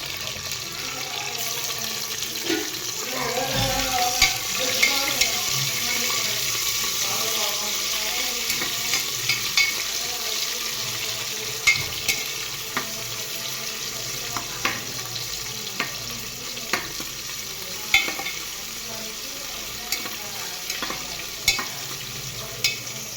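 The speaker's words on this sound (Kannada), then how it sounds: "ಬೆಳ್ಳುಳ್ಳಿ ಜಜ್ಜಿಟ್ಟಿದ್ನಿ ಅದನ್ನು ಹಾಕೋಣ. ಮತ್ತು ಹೆಂಚಿಟ್ಟಿದ್ದು ಉಳ್ಳಾಗಡ್ಡಿ ಹಾಕೋಣ." Crushed garlic, sliced onion and bay leaves fry in a pan with a steady, moderate sizzle, broken by frequent sharp clinks and scraping stirs close by.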